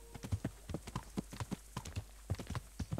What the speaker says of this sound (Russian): такая нарывистая лошадь прямо прет, как ненормальная